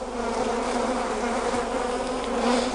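Honey bees buzz densely and steadily around an open Langstroth hive during a November inspection, a close, unbroken droning swarm sound.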